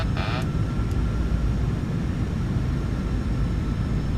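Simulated jet engines of a PMDG 737-700 in a flight simulator spooling up, a steady loud broadband roar with a brief high whine near the start, continuous and unchanging.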